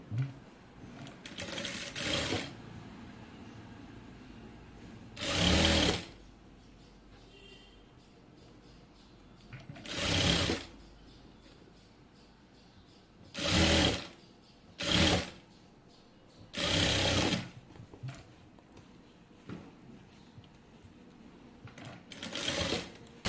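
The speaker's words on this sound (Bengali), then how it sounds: "তো আমি হচ্ছে এরকম করে হচ্ছে সেলাইটা করব।" An electric sewing machine stitches a sleeve seam in short bursts of fast whirring, about six separate runs spread over quiet handling pauses, close and clear.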